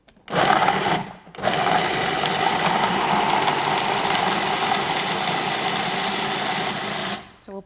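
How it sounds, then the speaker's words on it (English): A food processor whirs steadily as it blends soaked nuts with water, starting with a short burst, pausing briefly, then running continuously at close range before cutting off near the end. "You'll pop that in the food processor again."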